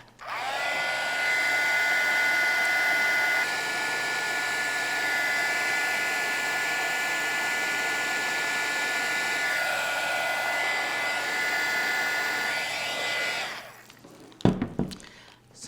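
A handheld heat tool roars steadily while warming a leaf cut from a discarded plastic soda bottle, a loud continuous blowing hiss with a brief drop in pitch partway, then it cuts off and a few clicks and handling knocks follow.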